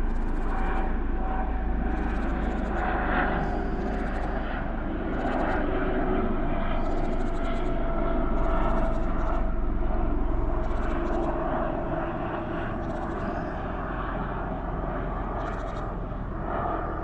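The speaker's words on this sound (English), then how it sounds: "Helicopter." An aircraft engine drones steadily overhead for the whole stretch, a continuous rumbling roar that stays loud and constant, heard outdoors with no talking.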